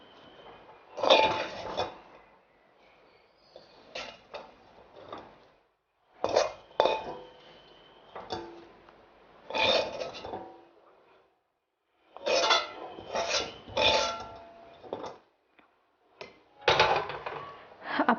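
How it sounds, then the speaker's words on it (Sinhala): Thick fish curry mixture is scooped from one pot into another, with metal spoon and pot clanks and scrapes coming in irregular bursts between short quiet gaps. "මම මේ මිශ්‍රණය දෙහි ඇඹුල් එකතු කරන්න ඕන නිසා වෙන භාජනයකට දා ගන්නවා"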